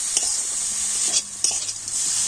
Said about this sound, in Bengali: এইভাবে নাড়তে থাকতে গুড়টা কিন্তু গলে যাবে